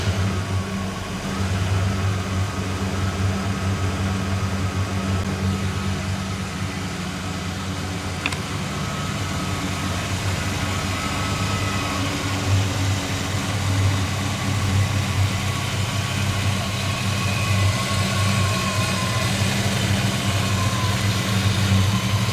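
A 1990 Ford Mustang Foxbody with a V8 running steadily, a continuous low engine drone with even tone throughout, close by and fairly loud, with no talk.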